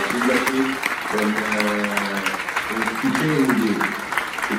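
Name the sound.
applause at a political assembly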